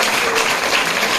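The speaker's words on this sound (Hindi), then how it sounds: "तो इनके लिए भी एक जोरदार ताली बजाइए।" Steady applause from an audience at a coaching institute gathering, honouring a student who secured an SSC GD post, a continuous dense patter of clapping that holds at even loudness throughout.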